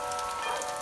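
Steady patter of light rain falling on a surface, an even continuous hiss with soft drops throughout.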